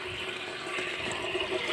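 Water runs steadily through the inlet hose of a clothes dryer that has a cut, leaking hose, a continuous close rushing flow at even loudness with no talk.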